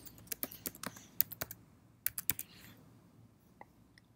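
Crisp, close keystrokes on a computer keyboard as a title is typed, arriving in quick irregular clusters with short gaps and a couple of isolated final clicks.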